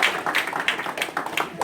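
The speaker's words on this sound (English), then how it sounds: "So keep a round of applause for JJ." A crowd at a youth football team celebration breaks into brief, dense applause, loud and close, a steady wash of clapping that carries straight through without any talk.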